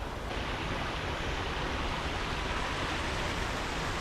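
A dense, continuous roar of rushing water from a waterfall in Laos fills the air, loud and unbroken like a nearby waterfall.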